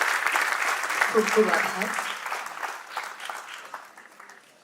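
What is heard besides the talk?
audience applause after speech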